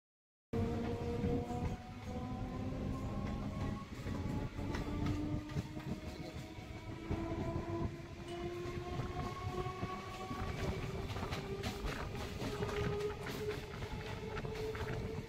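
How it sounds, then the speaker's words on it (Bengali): A suburban train rolls into a station, a sustained rumbling roar of wagons with rising metallic wheel tones and clanks, loud and continuous after a short silent start. "ট্রেন কখন আসবে দেখতে দেখতে আমাদের ট্রেন চলে এলো"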